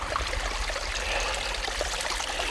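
A mountain stream rushes steadily at a backcountry camp spot while a water bladder is filled, a continuous close trickling wash with no voices.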